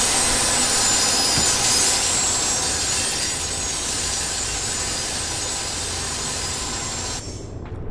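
A chainsaw in the video game Limbo saws steadily, a loud, continuous rough buzzing whine that holds for about seven seconds before cutting off abruptly.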